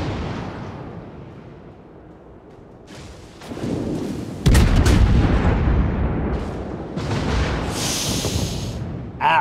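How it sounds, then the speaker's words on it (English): A warship firing a full broadside in World of Warships, with heavy booming artillery blasts that build into loud sustained rumbles and layered explosions, followed by a hissing burst near the end. "it didn't instantly explode, which is what I was expecting from a full broadside like that"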